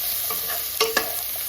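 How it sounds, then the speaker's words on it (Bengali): Cumin, chili and turmeric fry in a pan with a steady soft sizzle, broken by a couple of quick scraping stirs of a spoon against the pan. "জিরে লঙ্কা হলুদ মিশিয়ে আবার ভাজা করে নেবো"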